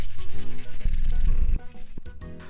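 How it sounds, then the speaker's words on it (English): Fresh peeled ginger is rubbed across a kitchen grater, giving a close, steady scraping rasp for a couple of seconds that then drops away. "Then grate this as well."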